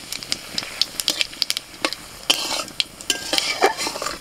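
Whole cumin, three dried red chillies and two bay leaves fry in hot mustard oil in a wok, giving a crackling sizzle with quick spatter pops and spoon clinks against the pan, without speech.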